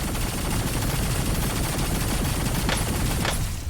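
Rapid automatic gunfire rattles continuously through a Warzone match as loud, dense bursts. A couple of sharper, brighter shots stand out near the end.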